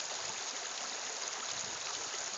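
A creek flowing steadily, a dense broadband rush of moving water heard up close and constant, with no other sounds.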